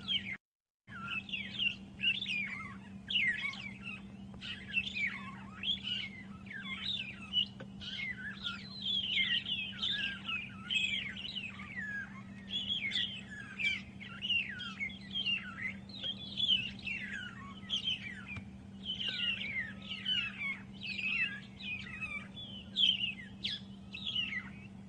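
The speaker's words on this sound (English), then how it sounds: "Mostly only during rains that we hear the magpie shrikes" Magpie shrikes singing their morning song in the rain at sunrise on an African safari drive, a steady run of overlapping liquid whistles and chirps at moderate distance over a low constant hum.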